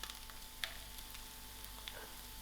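Onions and dry chilies frying in a pan, a faint steady sizzle with a couple of small clinks, close by and without talk.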